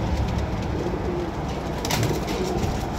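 Pigeons in a loft coo repeatedly, soft low rolling calls over a busy, constant background of rustling and bird noise, close by with no talk.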